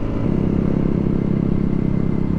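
A steady, droning motorcycle engine on a scenic curvy road, heard as a continuous rumble with a mild rhythmic flutter. There is no talking.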